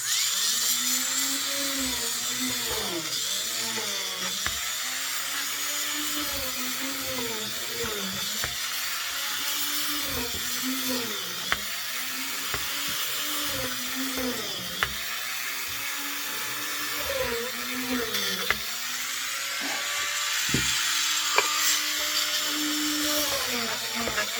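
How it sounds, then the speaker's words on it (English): A small high-speed Dremel rotary tool with a drill bit whines steadily, its pitch dipping and rising in repeated cycles as it drills holes in wood, close and continuous. "I'm just going to use my Dremel tool that I got here with the drill bit in it"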